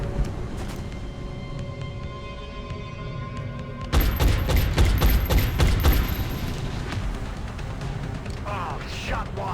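Shots ring out during a tactical firefight in the video game XCOM: Enemy Within. A sudden burst of rapid gunfire and impacts cuts in over steady game ambience, with voices from the game heard around it.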